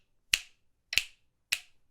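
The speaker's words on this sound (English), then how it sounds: "It can be a snap," Three crisp finger snaps, close and distinct, spaced about six-tenths of a second apart as if keeping time with a metronome, with silence between them.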